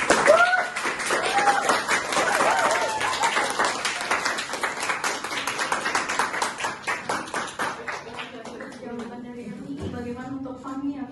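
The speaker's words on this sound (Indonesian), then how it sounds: "Kita berikan aplaus ya." A classroom audience claps after a group presentation on Indonesian health regulations, steady applause that thins into scattered individual claps toward the end, with a voice speaking over parts of it.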